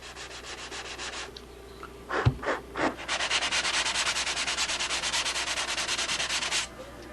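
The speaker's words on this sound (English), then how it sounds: "I just have a piece of worn out sandpaper. I'm just giving this the slightest little kiss here to pick out the high spots" Worn-out sandpaper rubs lightly by hand over a model aircraft wing, a few short separate strokes followed by a steady run of quick rhythmic back-and-forth scratches, close and soft.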